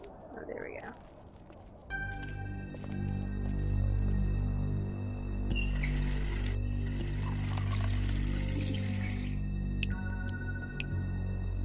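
Water pouring in a kitchen in The Wolf Among Us game, a steady rushing flow under a low hum that swells and hisses louder midway before settling back, with a brief sound before it begins.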